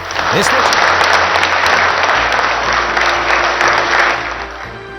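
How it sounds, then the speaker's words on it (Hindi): Scientists at the ISRO command centre welcome PM Modi with sustained applause, a dense, loud, close wall of clapping from a crowd that continues throughout, with some voices mixed in. "प्रधानमंत्री जब कमांड सेंटर पहुंचे तो वैज्ञानिकों ने 5 मिनट तक ताली बजाकर उनका स्वागत किया।"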